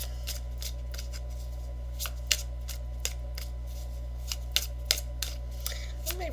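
Tarot cards are drawn and handled from a deck, producing a scatter of sharp, crisp card snaps and slides at irregular intervals over a constant low hum in a quiet room.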